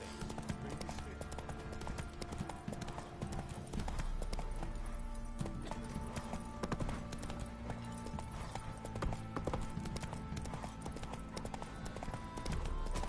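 A horse gallops in The Witcher 3, its hooves clip-clopping in a quick, steady rhythm over game music and ambience, with some speech along the way.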